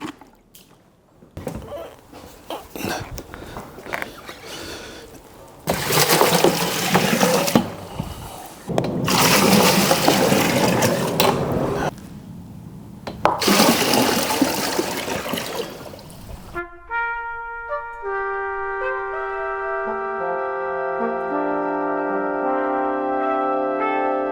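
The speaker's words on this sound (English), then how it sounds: "So we'll weigh the water as we put it in." Water gushes and splashes from buckets into a brewing vessel in several long pouring bursts with short pauses, then gives way to a steady tonal hum.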